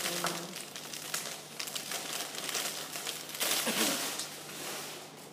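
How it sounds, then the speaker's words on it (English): Cellophane wrapper peeled off and crumpled, a dense run of crisp crackling and crinkling up close, continuous throughout, with a louder burst of rustling midway. "Take the cellophane out."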